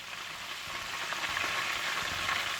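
Chicken drumstick lollipops fry in oil over low heat, giving off a steady, gentle hiss of bubbling sizzle with no voices.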